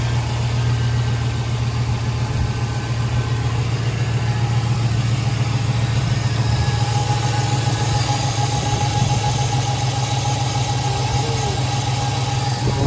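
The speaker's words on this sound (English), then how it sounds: "This thing's still sitting here running and hadn't got no abnormal noise yet" Gen 3 5.3 LS V8 engine idling steadily with a deep, even drone and faint mechanical ticking, heard up close with no talk.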